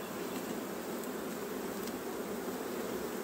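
Honeybees buzz around an open beehive in a steady, dense, close drone of many insects that continues throughout without a break.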